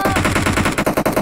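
Rapid automatic gunfire in a first-person shooter video game, a loud, close, unbroken burst of evenly spaced shots with no talking.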